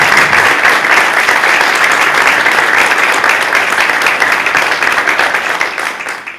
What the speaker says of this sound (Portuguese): pedia de facto uma salva de palmas.